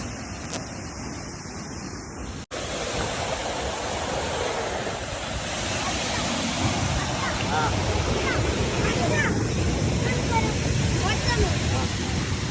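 A waterfall in Munnar running with high water flow gives a constant loud roar of rushing water, with a brief cut near the start and then an unbroken heavy wash.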